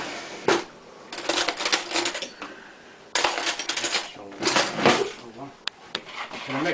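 A fork clatters and scrapes briskly against a bowl while boilie bait ingredients are stirred, two sustained bursts of rapid metallic tapping with short pauses, close and fairly loud.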